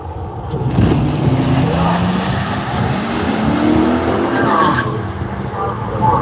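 Drag race cars, a 2002 Mustang and a 2013 Nissan Titan, launch at a raceway with loud roaring engines rising in pitch and tire noise, close and continuous.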